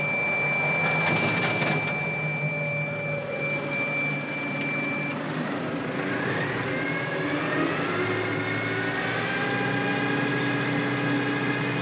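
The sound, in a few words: tractor engine running mower at working RPM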